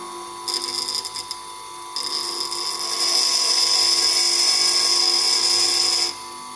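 A grinding wheel shaping a flat lathe cutting tool, a steady high whine with a piercing grinding tone that starts and stops briefly, then grows louder and sustained before cutting off, close and without talk.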